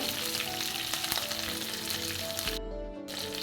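Mustard seeds, cumin, urad dal, chana dal, dried red chilli and curry leaves crackle in hot oil with a loud, steady frying hiss and busy popping. Partway through, a low hum cuts in and the sizzle briefly dips before returning.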